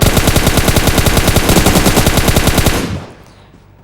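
Rapid automatic gunfire from a PUBG Mobile match rattles in a dense, steady burst for nearly three seconds, loud and close, then cuts off into a fading tail with a final click.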